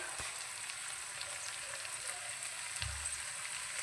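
Potatoes and finely chopped bathua greens frying in a pan, a steady sizzle with a couple of soft thumps as the greens go in, close and continuous with no talk.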